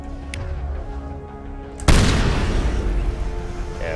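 A single heavy shotgun blast from Mass Effect 1 combat booms suddenly after a stretch of low ambient hum, followed by a loud, lingering rumble and debris noise.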